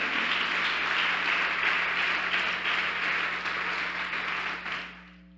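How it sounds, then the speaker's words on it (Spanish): A church congregation during a Spanish-language Bible seminar gives sustained applause to the Lord, a dense wash of clapping under a steady low hum that fades out at the end. "déle ese aplauso al Señor"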